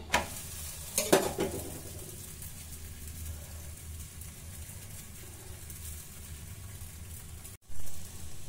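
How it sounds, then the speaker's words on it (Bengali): Cauliflower-stuffed paratha frying with oil on a hot tawa, a soft continuous sizzle close by with a few scraping spatula touches near the start and a brief clatter near the end, no voices. "পরোটাটাকে তাওয়ার পরে দিয়ে, গরম তাওয়ার পরে দিয়ে উপর থেকে খুব হালকাভাবে আর একটু তেল ব্রাশ করে দিতে হবে।"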